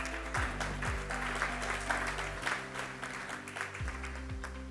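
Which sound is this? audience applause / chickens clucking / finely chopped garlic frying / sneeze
audience applause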